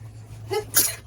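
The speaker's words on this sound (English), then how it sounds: "I'm about to sneeze." A single close sneeze, a short voiced intake followed by a sharp, hissing burst.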